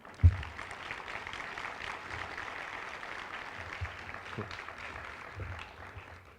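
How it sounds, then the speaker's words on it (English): Audience applause at a spring county settlement meeting, a dense, moderately loud wash of clapping that runs steadily throughout, with one sharp thump near the start. "help me embarrass this young man by giving him a round of applause in the back"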